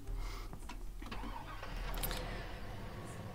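A vehicle engine starts in Farming Simulator 19, then settles into a low, steady mid-pitched rumble that carries on at moderate volume with no talk over it.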